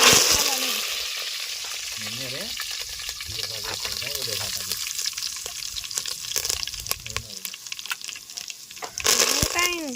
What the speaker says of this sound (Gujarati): ફાઇનલી આપણે શાક વઘારી છીએ